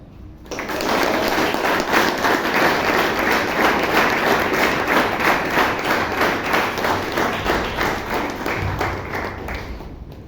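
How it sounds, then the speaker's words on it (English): An audience at a Toastmasters club meeting in Bangalore applauds steadily for about ten seconds, a dense wash of many hands clapping at once, loud and sustained with no voices. "With a loud, thunderous applause, please welcome Madam Toastmaster Bhavna."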